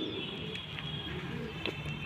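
Devbandi pigeons kept for sale cooing softly in a low, steady murmur, faint and close, with a few soft bird calls over light background noise.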